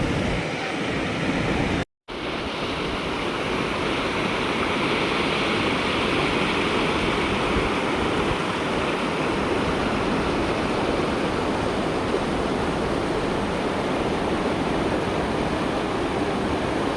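Water rushes down from hills in a steady, loud, broadband roar that fills the whole stretch with only a brief dropout near the start and no voices.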